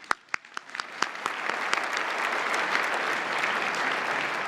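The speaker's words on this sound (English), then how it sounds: "One more round of applause, please." Applause at the 2022 White House Correspondents' Dinner opens with a few sharp, separate claps that quickly swell into a dense, steady ovation from a large crowd filling a banquet hall.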